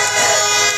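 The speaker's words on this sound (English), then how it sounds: "Lots of honks coming in from the traffic coming into the city" A car horn blares in one loud, steady honk amid city traffic at a street protest, close and bright.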